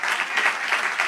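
A church congregation gives a brief, soft round of applause, thin and uneven in short swells, with no voices over it.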